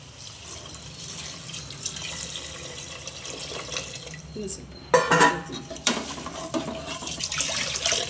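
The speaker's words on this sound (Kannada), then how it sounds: "ನೀರು ಹಾಕೊಳ್ಳೋಣ ಫ್ರೆಂಡ್ಸ್" Low kitchen noise and a soft sizzle, then a sudden rush of water splashing into a hot pan of fried green gram, followed by bubbling and a few utensil clinks.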